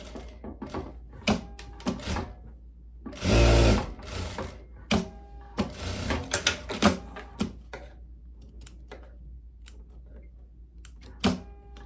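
A sewing machine stitches a viscose dress in short bursts of rapid mechanical chatter separated by pauses, close and clear, with one longer loud run of stitching near the start and small handling clicks between runs.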